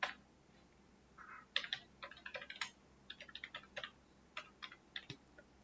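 Typing on a computer keyboard while writing Python code, a quiet, irregular run of clicky keystrokes in short bursts with pauses, close and alone.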